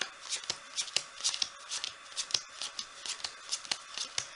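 Playing cards are taken from a cut deck and counted off by hand during a card trick, giving a quick run of crisp, papery snaps and flicks at close range with no talking.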